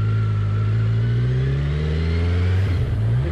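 A Kawasaki Z900 motorcycle engine revs up loudly while being ridden, its steady roaring drone climbing in pitch as the bike accelerates, close and continuous.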